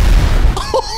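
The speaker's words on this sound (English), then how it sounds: "hit as many logs as possible for the maximum explosion" Explosion in GTA 5 as a prison bus smashes into logs on a mega ramp: a loud, rumbling boom followed by sharp crackling bursts and debris, with no talk over it.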